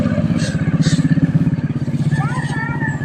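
A motorcycle engine putters close by with a fast, even thumping rhythm, loud and steady over about three seconds on a rural morning road, with voices talking over it.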